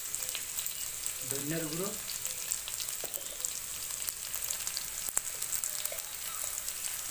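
Powdered chilli, cumin and coriander sizzle in hot oil for a puti fish curry with potatoes, a steady soft frying hiss throughout, with someone talking over it.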